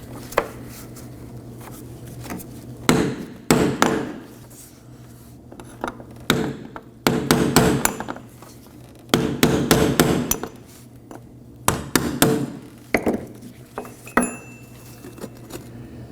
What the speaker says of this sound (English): I'm going to take a chisel and a hammer to remove our fuel pump lock ring